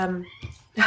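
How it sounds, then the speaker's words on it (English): A cat meows briefly, a short tonal cry followed by a second sharper meow, close by and fairly loud. "I shut her out, and you can hear her meowing."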